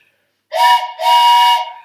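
A train-style whistle blown twice in two loud, close, sustained blasts, a short one followed by a longer one, with steady bright tones and breathy edges and no talking.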